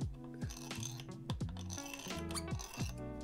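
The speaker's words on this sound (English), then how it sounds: "that ratchet sound? That picks up on recordings and in amps and stuff." Ibanez THBB10 electric guitar's tremolo arm ratcheting as it is moved roughly, giving repeated clicking rasps with ringing string tones, close and fairly loud with no talking.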